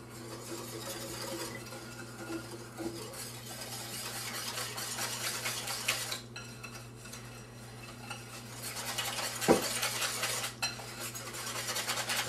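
Milk is stirred into Yorkshire pudding batter in a bowl, a steady close swishing and light scraping of utensil against the dish that runs continuously for several seconds without speech.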